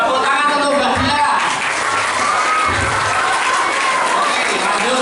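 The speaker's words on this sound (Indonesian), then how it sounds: "Tepuk tangan untuk Mbak Dila." An audience at a population awareness talk gives a sustained round of applause, dense and close, with voices mixed in throughout.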